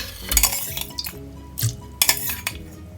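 Boiled carrots tipped into a large mixer-grinder jar, heard as a handful of close clinks, knocks and scraping clatters in short bursts.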